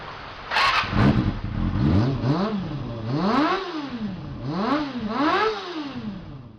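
A Kawasaki Ninja ZX25R 250cc inline-four motorcycle engine screams up and down through several sharp throttle blips, loud and close, with a shrill wailing pitch.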